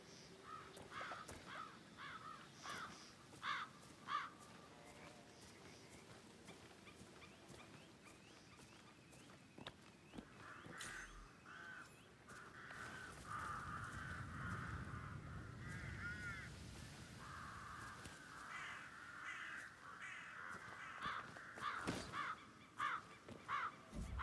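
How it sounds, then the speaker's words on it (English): Crows caw repeatedly in the video game Hitman, harsh calls recurring at a moderate distance over a quiet ambient background with no talking. "I'll never get rid of those stupid birds."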